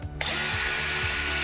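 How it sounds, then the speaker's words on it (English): Ryobi power drill boring into a wall starts with a sharp catch and then whines at a high steady pitch, close and loud, with slight wavering in motor speed. "Ryobi drill."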